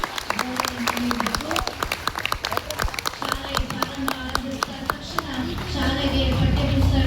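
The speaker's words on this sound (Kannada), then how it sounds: "ಜೋರಾಗಿ ಇನ್ನೊಂದ್ಸರಿ ಚಪ್ಪಾಳೆ ಮೂಲಕ" Applause at a government school event where notebooks and textbooks are handed out, heard as sharp individual claps ringing out over a busy room, growing into fuller, louder clapping near the end, with faint talk underneath.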